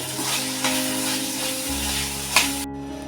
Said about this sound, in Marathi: मीठ टाकते चवीनुसार चांगली परतून घेते